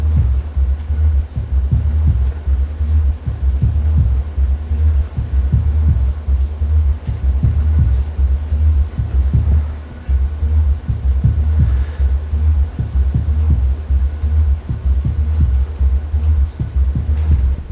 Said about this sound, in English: So that means putting a compressor on the bass drum.